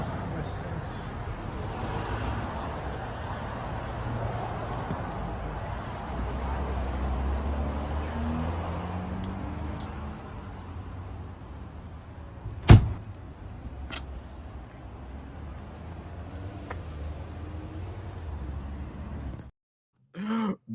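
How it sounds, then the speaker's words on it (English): A car door is slammed with a single loud, abrupt thump about midway through, set against a continuous low rumbling background with faint shifting noise before and after. "Why did he slam that door like that?"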